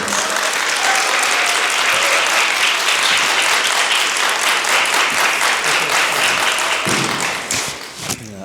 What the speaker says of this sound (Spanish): Démosle un aplauso de bienvenida a Víctor M. Hernández.